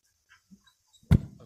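A dog trained to perform tricks gives one short, sharp bark on command after a few faint rustles, heard at close range in a church setting with no talking.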